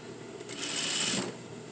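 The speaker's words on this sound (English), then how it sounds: "And then I'm going to edge stitch." A sewing machine edge stitching a folded hem on jeans runs in one brief steady burst for under a second, fairly close and alone with no talk.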